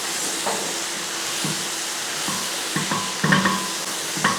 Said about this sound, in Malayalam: അതിനുശേഷം ഒന്ന് ഇളക്കി കൊടുക്കുക.